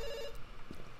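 A phone ringing in the game Dr Langeskov, a single short burst of ring tone heard alone over a faint steady background.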